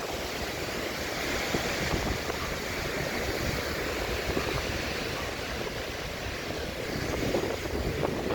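Wind blows across the beach at Visakhapatnam, a loud, steady rush with wave-like surf noise and microphone buffeting lasting the whole stretch.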